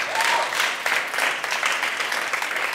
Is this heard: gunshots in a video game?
no